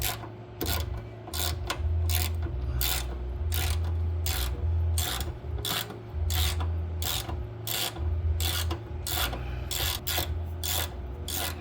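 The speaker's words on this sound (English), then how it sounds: "let's go remove this 15mm bolt" A ratchet wrench clicks in rapid, regular bursts while loosening a 15mm bolt on a Dodge Challenger front sway bar, the close mechanical ratcheting repeating steadily over a low background hum.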